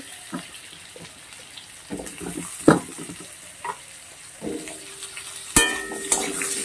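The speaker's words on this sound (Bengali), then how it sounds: "আলুটাকে একটু লাল লাল করে ভেজে নেব কিছুক্ষণ" Potatoes fry in a little oil, with soft sizzling crackles and scattered stirring knocks from a utensil, close and moderately quiet, and a sharp clatter near the end.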